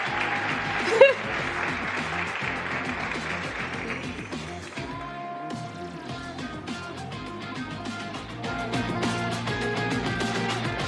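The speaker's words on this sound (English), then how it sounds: "A round of applause, please." Applause from a conference crowd at the South Summit Brazil 2024 stage as the state governor and vice governor are welcomed, a soft sustained clapping blended with loud upbeat stage music throughout.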